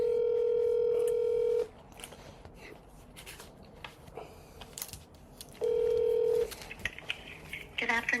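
Automated phone menu keypad tones, two long steady beeps spaced several seconds apart, with quiet line noise and faint clicks between them, loud and close on a call line.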